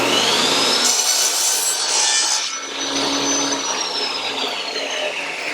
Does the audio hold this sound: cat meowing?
no